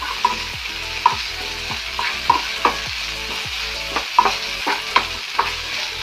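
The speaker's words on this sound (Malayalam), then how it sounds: "ഒരു തക്കാളി എടുത്തിട്ടുണ്ട് അപ്പോൾ നന്നായിട്ട് നമ്മൾ വഴറ്റണം" Chopped green chillies and tomato sautéing in a pan, with a constant sizzle broken by regular sharp scrapes and taps of the spoon, close up and with no voices.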